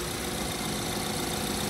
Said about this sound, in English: Motor sounds awesome